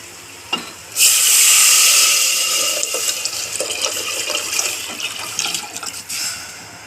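Water pours into a hot pot of pepper-tomato rasam with a loud, steady hissing sizzle that starts abruptly and slowly fades, alongside a few clinks near the end.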